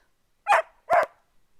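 A dog barks twice, with a short gap between the loud, close barks and silence around them.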